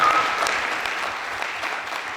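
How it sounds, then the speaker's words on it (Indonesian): A seminar audience at an entrepreneurship talk applauds the organising committee, giving a brief burst of even, moderately loud clapping with no voices. "mungkin kita berikan tepuk tangan dulu buat teman-teman panitia yang sudah berikan semua"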